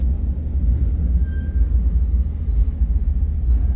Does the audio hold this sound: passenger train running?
yes